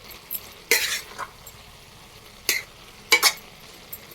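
Curry frying dry in a pan with no water, stirred in short bursts: three or four scraping, sizzling strokes with gaps between, close and fairly quiet.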